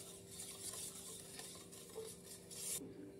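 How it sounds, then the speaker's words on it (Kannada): A spoon stirs sugar into a lemon summer drink, giving soft scraping and clinking against the glass, a few brief strokes under a quiet hiss of room noise. "Mix well, mix it well."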